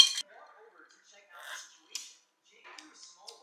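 Cherry and strawberry juice being stirred together in a cup, giving a few light, sparse clinks and scrapes close by, with quiet gaps between them.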